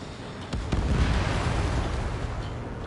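An enemy bomber blowing apart after being shot down in Ace Combat 7: two sharp blasts followed by a rolling, sustained explosive roar over constant jet engine noise.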